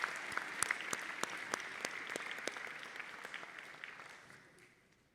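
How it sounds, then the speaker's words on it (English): A high school audience claps for a concert choir and its director, loose individual claps over a soft wash of applause that thins and fades away toward the end. "Can we give one more round of applause to Miss Douglas and our amazing concert choir?"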